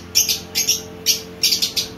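Pigeons, Rajshahi-type birds kept for sale, give short, sharp chirping calls in about five quick bursts, close and fairly loud over a quiet hum.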